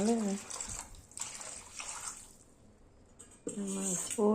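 Hot water splashes and runs as a spork is rinsed, with bursts of washing noise that stop and start between stretches of a person talking.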